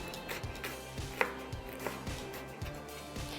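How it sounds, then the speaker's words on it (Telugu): An onion being finely chopped with a knife on a board in a television cooking show kitchen, steady rhythmic chops at a brisk pace, close and clear. "ఈ ఉల్లిపాయను కూడా సన్నగా చాప్ చేసేసి"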